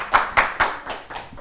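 A small audience at a children's quiz show claps for a student speaker, a handful of distinct claps in an uneven rhythm that fade out toward the end.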